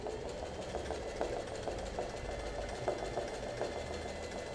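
A sewing machine runs in quick, even free-motion zigzag bursts while embroidering an Art Nouveau flower, its rapid needle rhythm close and steady with a faint motor hum beneath.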